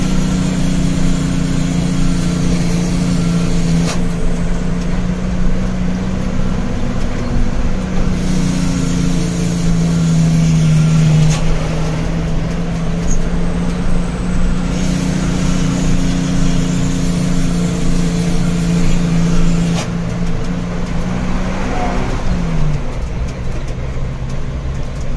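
A heavy truck carrying a 12.5-ton load climbs an uphill stretch of the Semarang toll road in low gear, its engine a loud, steady, droning growl that swells slightly now and then without letting up.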